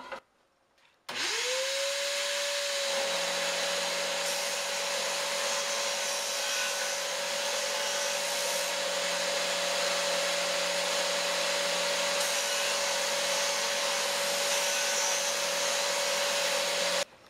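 Small sander rounding the corners of wooden pieces for a kitchen table, a steady high-pitched motor whine that spins up after a brief pause and then holds loud and constant, with no talking.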